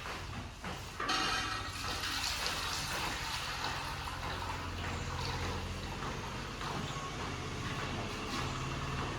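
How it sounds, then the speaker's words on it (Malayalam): Water pours steadily into a large uruli pot for wheat payasam, a continuous loud splashing rush that lasts throughout with no voices. "അപ്പൊ നമ്മളൊരു ഉരുളി വെച്ചിട്ടുണ്ട്. അപ്പൊ അതിലേക്ക് നമുക്ക് വെള്ളം ചേർക്കാം."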